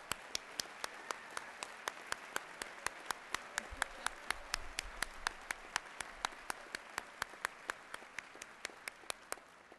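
Audience applause at a West Virginia University College of Law commencement ceremony as grandparents stand, with steady crowd clapping and a crisp, regular rhythmic clap cutting through across the whole stretch, moderately distant.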